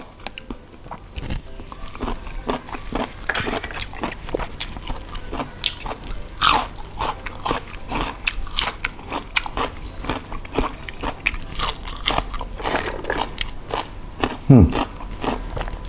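Close, crisp crunching as someone bites and chews large blood cockles, the bites landing in a steady, repeated rhythm throughout, with faint background noise and no talk over the chewing.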